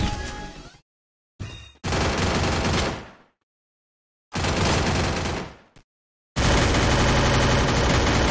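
Loud bursts of automatic gunfire in Garena Free Fire gameplay come in separate sustained volleys split by short silences, with headshots landing on an opponent.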